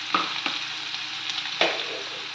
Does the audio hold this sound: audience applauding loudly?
no